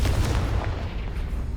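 The Confringo fire spell explodes in the Hogwarts Legacy video game as a loud, continuous low rumbling blast with crackling bursts that last the whole moment, and no one talks over it.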